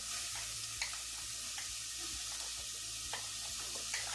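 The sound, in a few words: onion frying in oil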